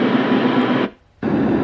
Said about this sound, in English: Okay, bunch of different white noise sounds.